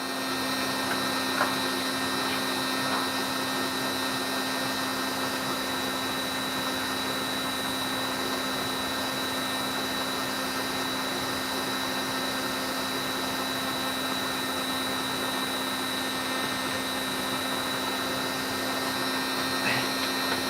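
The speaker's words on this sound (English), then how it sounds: "What I'll do for you, Gilly, I've got another piece of black opal that I wanted to get the sand off just to reveal it" A vacuum draws sand off a piece of black opal, producing a steady, continuous motor whine and airflow hum at constant level for the whole stretch, with no talking.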